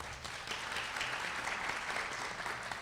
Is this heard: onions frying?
no